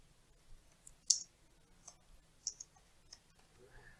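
A computer mouse clicks on a Windows 10 PC, a few faint, sharp, isolated clicks spaced irregularly in a quiet room.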